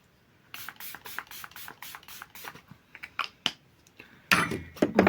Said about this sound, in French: vous connaissez, petit spray